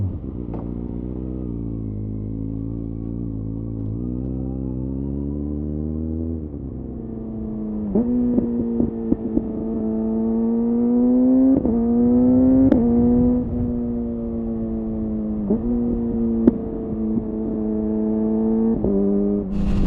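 A motorcycle fitted with a new exhaust cruises at night, its engine note droning steadily and then rising and falling through repeated revs and gear changes, loud and continuous with no talking.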